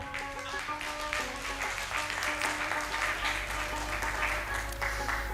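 A poetry gathering audience in Gujranwala breaks into sustained applause, a dense, steady wash of many hands clapping close by for several seconds without pause.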